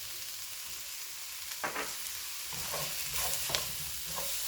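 Onions, garlic and ginger stir-fry in a pan for fried rice, a steady loud sizzle with scraping spatula strokes and clinks as the food is turned over.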